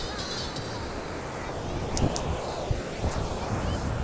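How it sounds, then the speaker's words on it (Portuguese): Steady wind blowing across the open sand at Praia Brava beach in Itajaí on a sunny day, a continuous broadband rush with brief gusts swelling midway and surf-like noise underneath, no voices. "O vento vem mudando nesse exato momento."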